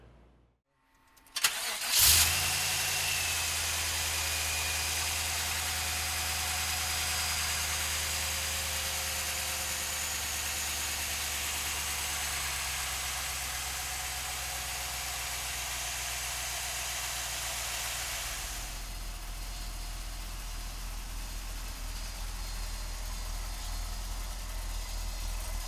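A 1971 Chevrolet Corvette cranks briefly and fires up, then settles into a loud, steady idle with a rough, throaty rumble that holds for over twenty seconds. No one speaks.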